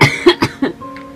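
A man coughs in a short burst of three or four harsh, close coughs, ending with a faint voiced exhale.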